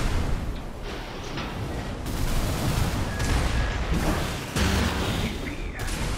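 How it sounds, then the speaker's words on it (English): Missile launches in a mech combat video game, a dense rumbling barrage of booms and mechanical bursts, loud and continuous, with no voice heard. "missed the missiles again"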